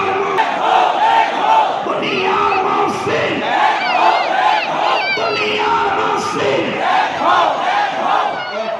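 A large crowd shouts slogans in unison at a religious gathering, loud massed voices rising and falling in repeated chant phrases that continue steadily throughout.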